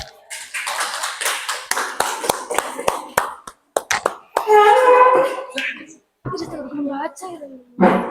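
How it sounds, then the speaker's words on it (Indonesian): Schoolchildren in a classroom clapping for a group that has just presented, scattered sharp claps and taps with kids talking and shouting over them, uneven and close. "beri tepuk tangan."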